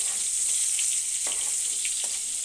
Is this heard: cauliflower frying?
yes